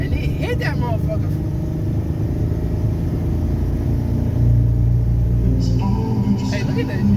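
A Pontiac car accelerates hard out of first gear, a steady loud engine rumble from inside the cabin that deepens and swells in the second half, with people talking over it.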